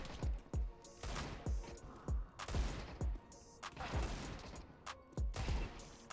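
Desert Eagle pistol firing in Counter-Strike 2, a run of loud, sharp single shots spaced roughly every half second to second, each with a short ringing tail, with no talk over them.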